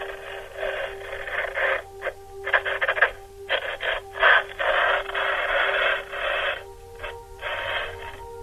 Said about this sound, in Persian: اون رادیویی که با خودش میبره که با این ارتباط بگیره داره صدا میده